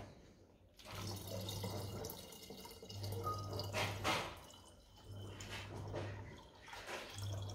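Water pouring from a measuring cup into a 5 liter can: several faint, separate pours, each a steady splashing trickle lasting about a second, with quiet gaps between them and no talk.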